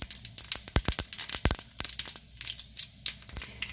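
Mustard seeds, cumin and fenugreek crackle and splutter in hot oil for an okra kara kuzhambu, with a dense run of sharp, quiet pops and sizzles throughout.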